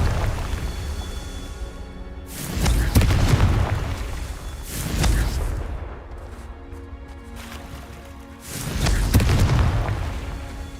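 Confringo spell blasts go off in the game Hogwarts Legacy, three heavy booming explosions spaced a few seconds apart, each a loud rumbling burst that swells and decays over a dense, noisy game background.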